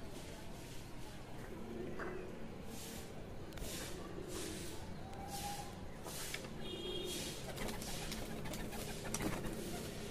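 Racing pigeons coo softly amid steady outdoor background noise, with faint wing flutters and occasional brief chirps, distant and fairly quiet throughout.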